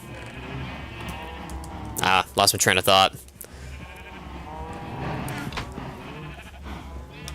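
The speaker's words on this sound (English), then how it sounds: "These sheep are, like, distracting me." Sheep bleating in Minecraft, a burst of several loud close bleats in quick succession, with someone talking before and after them.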